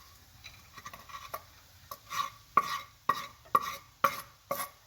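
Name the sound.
sauteing garlic, ginger and green chilli with mushrooms in pan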